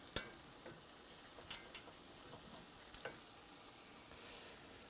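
Venison deer shanks searing in a hot pan, a faint steady sizzle broken by occasional soft ticks and pops, heard close with no voices.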